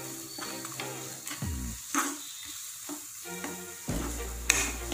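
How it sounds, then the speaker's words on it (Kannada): Food sautés in oil in a pan, the sizzle rising and falling as it is stirred, with scraping strokes and short quieter gaps between bursts. "ಒಂದೆರಡು ನಿಮಿಷ ಹೀಗೆ ಬಾಡಿಸ್ಕೊಳ್ಳಿ"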